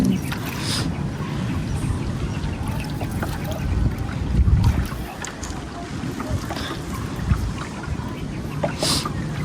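Steady wind rushing across the microphone, with watery lapping and the low churn of a small paddled boat moving through choppy water; no voices.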